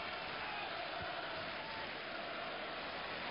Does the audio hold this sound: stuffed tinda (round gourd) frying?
no